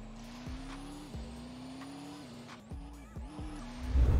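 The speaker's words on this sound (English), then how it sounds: "look at all of the McLarens going" McLaren cars driving in the Roblox game Driving Empire, a steady synthetic engine drone with repeated gear-shift dips and rises, close and continuous, building louder toward the end.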